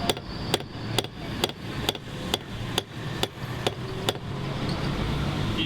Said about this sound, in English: We're just gonna take the hammer like this.